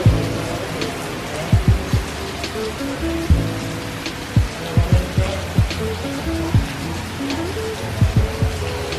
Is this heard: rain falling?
yes